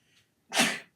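A single sharp, loud sneeze, close by, preceded by a faint breathy intake.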